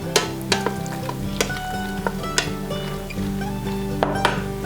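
Corned beef stirred into melted cheese in an Instant Pot, with a soft sizzle under scraping and several sharp clinks of a spoon against the metal pot.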